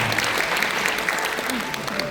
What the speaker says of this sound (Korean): 감사의 마음을 담아 박수 부탁드립니다.